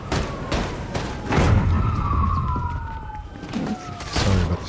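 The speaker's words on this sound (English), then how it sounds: "Sorry about the sirens." Police sirens wail outside, their rising and falling tones sweeping through the clip over background noise, with several dull thumps and knocks nearby.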